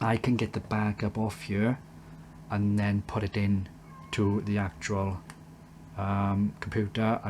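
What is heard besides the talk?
cat meowing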